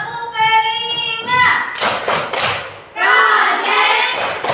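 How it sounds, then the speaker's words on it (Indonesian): A class of pupils claps out the tepuk P5 routine, with bursts of rhythmic hand claps and thuds between stretches of a loud chanting voice. "Sekarang kita akan melakukan ice breaking dengan tepuk P5."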